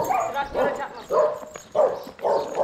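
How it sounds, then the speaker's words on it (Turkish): Dogs bark excitedly in repeated, quick bursts, fairly close, in an outdoor farm setting with livestock. "Köpekler çıldırdı. Çok güzel."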